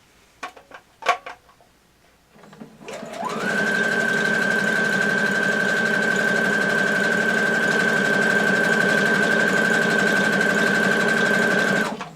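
A sewing machine runs steadily for about nine seconds stitching a tight, wide satin stitch for appliqué on a cosplay costume, after a few brief clicks and handling taps; the motor hum is loud, close and even, with no talking.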